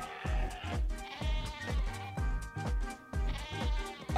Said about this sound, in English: Man, that's a big sheep.